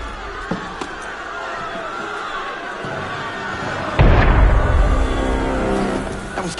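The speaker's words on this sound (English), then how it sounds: "That was cannon fire." Cannon fire in a PS4 video game lands as a single heavy, booming blast partway through, following quieter ambient scene noise and a few light knocks, with a rumbling tail that lingers afterward.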